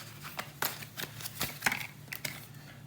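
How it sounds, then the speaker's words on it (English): Tarot cards shuffled during a reading, a few faint, quick papery flicks and taps in an irregular rhythm, soft and close. "do a couple of more shuffles."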